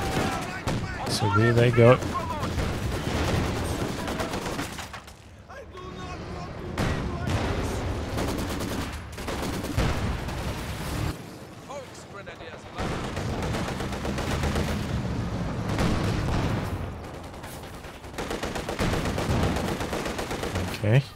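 A flak gun firing in a Company of Heroes 2 battle, with repeated bursts of gunfire and rattling automatic fire mixed with other combat noise, under a commentator's continuous talk.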